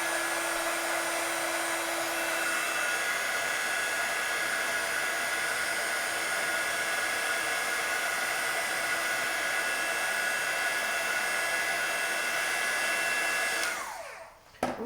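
A heat gun blows steadily on embossing powder over vellum, a loud, constant whooshing roar with a whine that stays even for about fourteen seconds before winding down abruptly.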